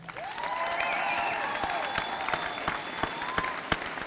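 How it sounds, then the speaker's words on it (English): An audience at a high school senior awards night applauds the class of 2021, with steady mid-distance clapping throughout and a faint whistle or cheer rising near the start. "Give them a round of applause."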